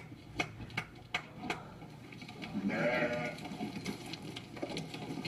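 A sheep being fattened on a farm gives a single faint bleat among quiet barnyard ambience, with scattered soft ticking knocks around it.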